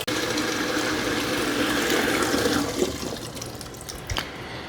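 A Samsung semi-automatic washing machine runs its wash cycle, water churning and sloshing in a steady, continuous rush with a low motor hum and a few brief knocks near the end.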